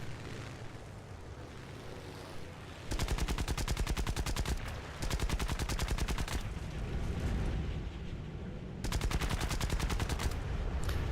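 Aircraft guns strafing ground targets in the War Thunder combat game, loud sustained bursts of rapid automatic fire in three long volleys separated by brief pauses, with engine drone underneath.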